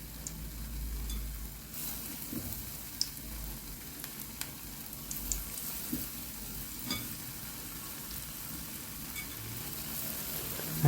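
Zalabia (luqmat al-qadi) dough balls fry in oil with a soft, steady sizzle and scattered faint pops. The sound is quiet and heard alone.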